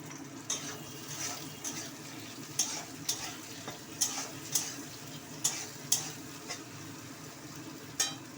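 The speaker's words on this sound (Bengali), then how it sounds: "এবার পেঁয়াজ ফোড়ন দিয়ে দিচ্ছি সাথে দুটো শুকনো লঙ্কা ফোড়ন দিয়ে দিচ্ছি" Onion and two dry red chillies sizzle in hot oil for a Bengali mutton kosha meal, a steady close hiss broken by a dozen sharp spatula clicks at an irregular pace.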